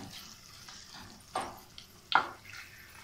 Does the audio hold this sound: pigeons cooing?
no